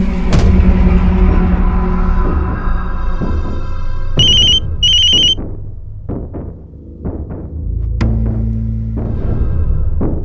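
A telephone rings with a bright electronic ringtone, two short bursts midway through, set against a dramatic music score in a Hindi crime drama.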